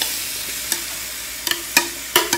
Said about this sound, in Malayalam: ഈ സമയത്ത് നമുക്ക് തക്കാളി ചേർത്ത് കൊടുക്കാം.